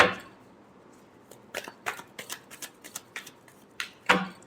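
Tarot cards are shuffled by hand in a quiet room, giving a string of soft, quick riffling and tapping bursts that ends in a firmer final snap, close and fairly faint.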